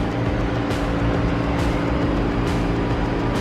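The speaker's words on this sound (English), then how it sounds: "Now we have an idle motor." A modified Toyota 2JZ-GTE turbo inline-six in a GS300 sedan idles with a steady, loud, dense low rumble that runs unbroken and close by.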